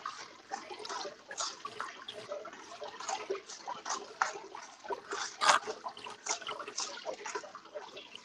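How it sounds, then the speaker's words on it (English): Water runs steadily at a faint level, with small trickling, dripping and scraping textures and a sharper splash midway. "I'm hearing all kinds of scraping sounds, Yeah. running water."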